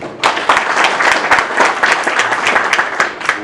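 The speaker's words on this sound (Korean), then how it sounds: "다시 한 번 더 박수 보내주시죠" Dense applause from an audience at a forum session on Jeju's maritime future, steady and loud for the whole stretch with sharp individual claps standing out.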